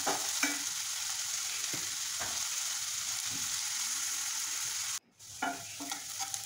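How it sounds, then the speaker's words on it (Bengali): Salted onions fry toward a crisp golden stage in a pan, a constant loud sizzle broken by scraping stir strokes and a brief dropout near the end. "একটু বেরেস্তার মতো করে ভেজে নিব পেঁয়াজকে।"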